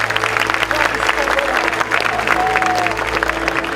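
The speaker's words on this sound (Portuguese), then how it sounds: "todos damos a Jesus uma linda salva de palmas" A church congregation applauds together, a dense steady wash of clapping across the whole span, with a faint voice and a musical tone drifting underneath.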